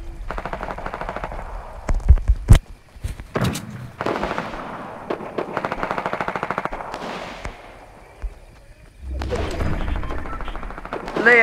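Gunfire in Fortnite Mobile: sharp single shots and rapid bursts crackle at varying distances, some loud and close, separated by quieter gaps.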